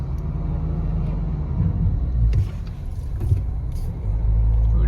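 A bus drives along a road, its engine giving a loud, steady low rumble with a few brief knocks and clatters from the vehicle over the last seconds.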